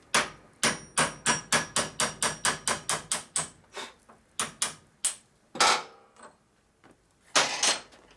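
A hammer beats a rusty Harley-Davidson hydraulic lifter block, from the 1953 to 1984 Panhead and Shovelhead era, in a rapid run of about a dozen sharp, close metallic blows, then slower irregular strikes with short pauses.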